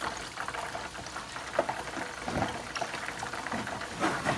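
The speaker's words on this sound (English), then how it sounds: "And a couple stirs, it's starting to simmer" A honey lemon wing sauce simmers in a pot, with soft bubbling and light stirring sloshes at moderate volume, close by and with no talk.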